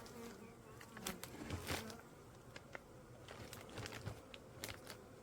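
Dense buzzing of many bees close by at a package hive, a steady insect drone with individual wingbeats flaring louder and fading throughout.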